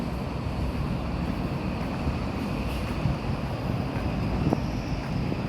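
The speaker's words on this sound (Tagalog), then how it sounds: "Lakas ng hangin dito" A constant, heavy roar of strong wind in Chile buffeting the microphone, low rumbling and unbroken throughout.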